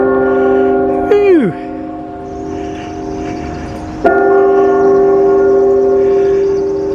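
Noon church bells ring out in town with loud, sustained metallic tones that hum and decay, struck again partway through, while a falling pitched swoop and quiet background noise pass by.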